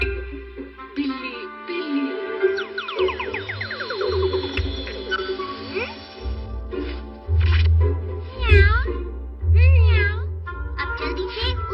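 A Hindi-dubbed Doraemon cartoon character imitates a cat with repeated drawn-out meows over background music and sound effects, with other cartoon voices speaking between them.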